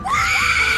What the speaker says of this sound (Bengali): ওই দেখো একটা মেয়েরও আমি চিৎকার শুনতে পেলাম